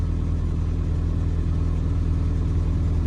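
A Morris Minor engine idles steadily with a low, rhythmic rumble and faint ticking, constant and close throughout, with no talking.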